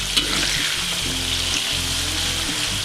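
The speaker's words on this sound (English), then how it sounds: "Just a fast stir fry with the green beans, with the black beans." Green beans and black beans stir-fried in a hot pan, a steady close sizzle and hiss with intermittent scraping of a utensil stirring.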